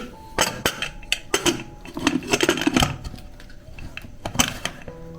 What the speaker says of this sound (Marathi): आता हा कुकर आपण झाकण लावून